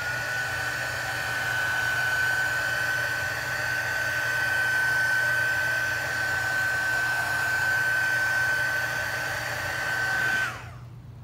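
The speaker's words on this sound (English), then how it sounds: "Use the heat gun for a second and then I'll blow it the other way." Heat gun blowing over a wet Dutch pour acrylic painting, a steady whooshing hum with a thin whine held evenly for about ten seconds before cutting off abruptly.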